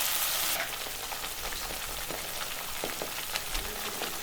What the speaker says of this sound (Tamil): இப்போ இந்த எண்ணெயிலேயே அப்படியே வதக்கி விடுங்க.